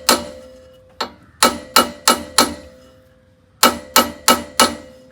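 A hammer strikes a stuck car wheel in two loud, close bursts of sharp metallic taps, one single hit followed by four rapid blows, a pause, then four more, with no talking.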